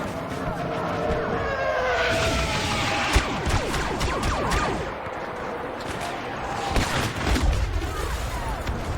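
Rapid turret gunfire from a Star Wars Battlefront match comes in quick bursts over a busy wash of vehicle engines and whooshing effects, with laser-like sweeps and sharp impacts in between.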